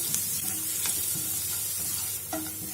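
Chopped garlic, four cloves, sizzles in a hot pan with cumin, a steady crackling fry broken by a few louder stirring scrapes near the end.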